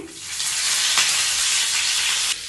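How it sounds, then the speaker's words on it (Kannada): Mustard seeds, cumin and curry leaves fry in hot oil for a North Karnataka village onion curry, giving a loud, steady close-up sizzle and hiss that swells briefly and then drops off near the end, with no talking. "ಅದಕ್ಕೆ ನಾನು ಸ್ವಲ್ಪ ಸಾಸಿವೆ ಮತ್ತು ಜೀರಿಗೆನ ಹಾಕೋತಾ ಇದ್ದೀನಿ ಸ್ವಲ್ಪ ಅದು ಫ್ರೈ ಆಗ್ತಿದ್ದಂಗೆ ಸ್ವಲ್ಪ ಕರಿಬೇವನ್ನು ಹಾಕೋತಾ ಇದ್ದೀನಿ"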